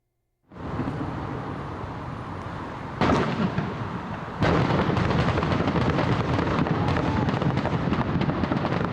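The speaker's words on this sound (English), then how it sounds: "the city's annual fireworks display" Loud fireworks from a city's annual display going off continuously, dense crackling bursts and booms that start abruptly and grow heavier in steady rapid succession.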